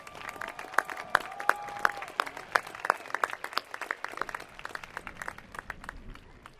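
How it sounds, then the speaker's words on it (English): Scattered clapping rises from a commencement ceremony audience at Long Beach City College, with distinct individual claps standing out over a thinner crowd patter that tapers off toward the end. "So please give a round of applause to Michelle."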